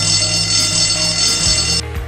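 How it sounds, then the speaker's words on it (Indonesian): A single long blast of a passenger ship's emergency whistle holds loud and steady for nearly two seconds, then cuts off over a low background drone. "dan bunyi peluit panjang 1 kali,"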